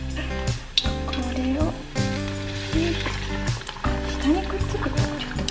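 Oliebollen dough fries in hot oil in a home kitchen, giving a steady close sizzle and bubbling with occasional clinks, while a voice talks over it.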